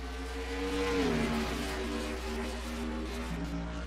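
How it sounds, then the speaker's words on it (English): Race car engines in the NASCAR Racing 2003 video game roar and accelerate after a restart at Charlotte, a loud sustained droning with rising and falling pitch as several cars run together. "Almirola did not get a very good restart above Kevin Harvick as Harvick sends it into turn one on the bottom."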